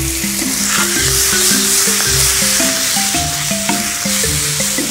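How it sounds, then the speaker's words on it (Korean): Tuna and kimchi stir-frying over high heat for a kimchi-tuna rice bowl, a steady loud sizzle with stirring and clinks of a utensil against the pan running throughout. "센 불에서 참치를 살짝 볶아주시다가 김치, 준비해둔 김치를 넣어주시는 거예요"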